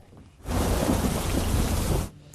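A sudden burst of heavy rain and thunderous rumble in the Sasan area of Junagadh swells in, holds steady for about two seconds, then cuts away.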